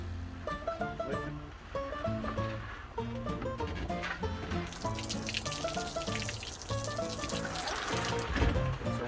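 Water drains out of a Magellan Outdoor Pro 45 Quart cooler, starting as a splashing, pouring rush about halfway through and continuing over background music.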